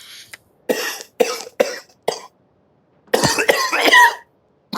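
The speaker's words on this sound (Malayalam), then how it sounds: "അളിയനെന്തോന്ന് കിടന്ന് ചുമക്കുന്നേ?" A man coughs in short, harsh bursts: a few separate coughs, then a longer fit of several rapid coughs, close and loud with quiet gaps between.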